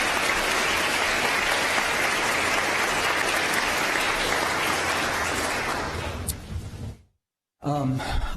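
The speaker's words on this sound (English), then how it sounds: "let's give a round of applause again to all of our winners" An audience at a pro bono awards ceremony applauding the winners, a loud dense wash of clapping that tapers off, then a brief silence before a voice starts.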